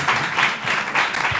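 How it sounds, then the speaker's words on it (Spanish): Audience applause at a talk on the climate and environmental crisis, a brief, dense wash of many hands clapping together at moderate loudness, with no voices over it. "Un aplauso, claro."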